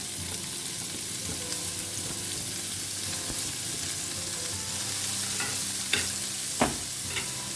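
Finely chopped onions fry in hot oil for Goan prawn balchao, giving a continuous, even sizzle, with a couple of sharp utensil clacks near the end.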